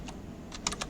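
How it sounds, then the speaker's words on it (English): A computer keyboard being typed on while entering a password, with a handful of quick, close key clicks in a short burst. "Type the password."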